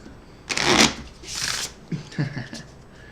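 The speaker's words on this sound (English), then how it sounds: "The card shuffle." Playing cards being shuffled during a tabletop role-playing game session, two quick riffling bursts up close, followed by softer handling sounds and light table noise.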